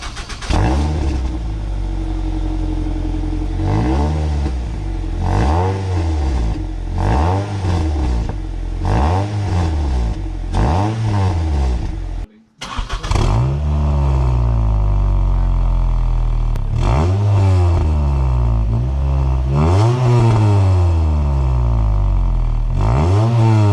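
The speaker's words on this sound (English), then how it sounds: "I'll do a clip of a sort of cold start on the new exhaust and then a warm start" A car with a resonator-delete exhaust cranks and fires up loudly on a cold start, revving repeatedly with a raspy exhaust; after a brief pause it warm-starts and revs several more times.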